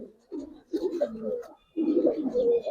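Pigeons coo in a loft where birds are kept and sold, including a female Jabra pigeon, with two bursts of low, rolling calls separated by a brief pause, fairly close and clear.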